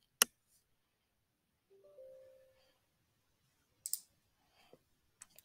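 A few sharp mouse clicks on a laptop launching a software setup installer, one crisp click at the start and a couple more later, separated by near silence and a faint brief tone.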